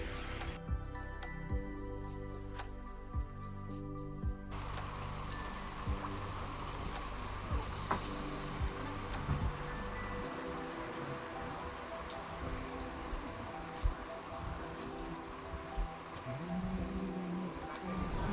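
Steady rain falling at a resort in the Sundarbans, a continuous soft patter of drops on surfaces with scattered louder splashes, moderately close and heard alone.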